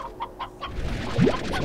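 Chickens in the video game Slime Rancher cluck in three short, evenly spaced bursts near the start, followed by a denser rush of game ambience and a sweeping tone.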